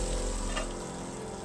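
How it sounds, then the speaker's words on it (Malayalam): Prawns, marinated Kerala-style, fry in hot oil in a pan with a steady, close sizzle that holds evenly throughout, no voices over it. "ഇതുപോലെ വറുത്തെടുക്കുകയാണ് ചെയ്തേട്ടോ"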